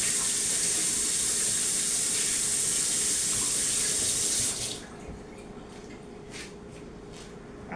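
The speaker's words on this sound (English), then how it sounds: "you hear the water runs over there" Water from a kitchen sink tap runs in a steady loud rush for several seconds and then is shut off, leaving quiet room sound with a few faint knocks.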